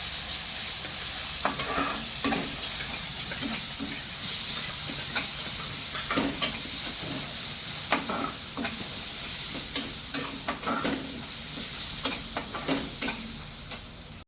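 Fried onion and crushed green chili thecha being stirred in a hot pan, a steady close sizzle broken by repeated scraping strokes of the spoon every second or so, with no talking.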